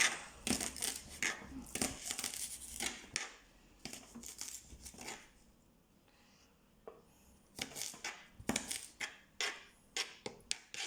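A knife chops leek on a cutting board for a leek broth, sounding as quick rhythmic bursts of crisp crunching slices with short pauses between runs, close and fairly loud.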